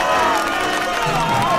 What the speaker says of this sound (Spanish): pido un fuerte, fortísimo aplauso